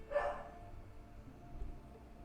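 A single dog barks once at a distance, a faint short bark followed by quiet room noise, with a low muffled thump later.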